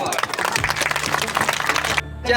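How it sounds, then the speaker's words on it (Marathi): An audience claps for teacher Yuvraj at a Diwali celebration with a tribal community, a dense, steady patter of many hands over a faint musical tone, ending abruptly near the end. "शिक्षक युवराज भाऊ यांच्यासाठी टाळ्या वाजवा"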